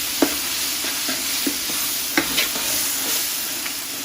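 Onions fry in a pan as spices are stirred in, a steady close sizzle broken by sharp scrapes and taps of a spoon against the pan at irregular intervals.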